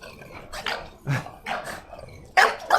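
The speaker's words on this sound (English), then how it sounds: "What are those? French bulldogs?" French bulldogs give a handful of short, rough barks and yips in an irregular sequence, moderately close, with a louder final pair.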